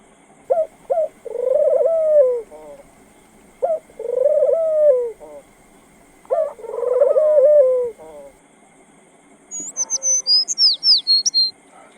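High-flying teddy pigeons coo close by in three repeated, rising-and-falling bursts, each a few seconds long, followed by a quick run of higher chirps, with quiet gaps between calls.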